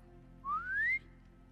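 A single clear whistle in Horizon Zero Dawn, calling a machine mount, rising in pitch, held for about half a second against a quiet low hum.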